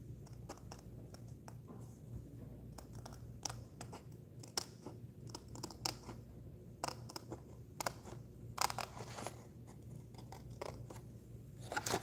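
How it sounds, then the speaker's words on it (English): Scissors snip out three small paper leaves in a stamping and papercraft setting, a string of short, light cuts and crinkles of varying loudness over a low steady hum, with no voices. "Let's grab a pair of scissors."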